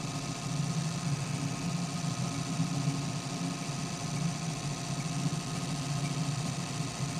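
A DC machine runs steadily in a lab test setup, a continuous mid-pitched motor hum with a faint whine, constant in level throughout with no pauses.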